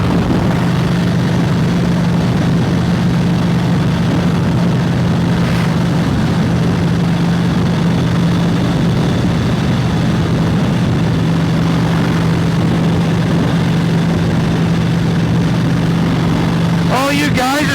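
A 1970s Harley-Davidson Ironhead XLCR motorcycle engine runs steadily with a deep, even low drone, loud and close throughout, with a brief sharper burst near the end.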